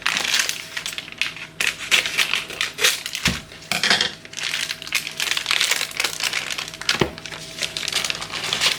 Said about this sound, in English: I've got my new favourite toy, my meat masher. So I'm just going to give that just a little munge up